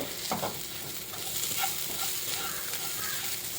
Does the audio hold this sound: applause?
no